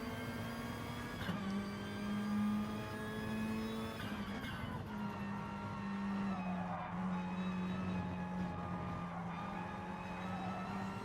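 Race car in a Drass feature race drifting with its rear end sliding, a sustained engine drone with steady tonal pitch that shifts as the car slides, moderately close, without talk.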